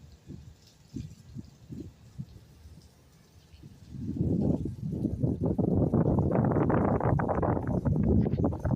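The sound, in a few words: wind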